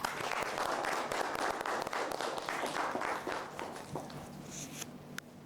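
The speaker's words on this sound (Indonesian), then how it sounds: "kita kasih tepuk tangan dulu" Students in a college classroom clap briefly after a presentation, a quiet, fairly even patter of hands that thins out toward the end.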